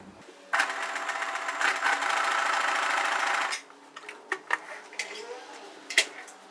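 A sewing machine runs at speed with its needle held right at the very edge of a fraying fabric, giving a steady close whirring burst for about three seconds, then stopping, followed by a few faint clicks and handling knocks.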